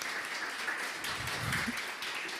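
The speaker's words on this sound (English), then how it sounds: "So a big round of applause for Saludtech." A quiet, brief round of applause from an audience at a startup demo day, steady clapping heard from a distance.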